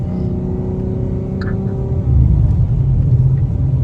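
A BMW G80 M3 on BMW's Spartanburg factory track, its engine rumbling close by and then swelling into a louder, deeper roar as it accelerates down the back straight.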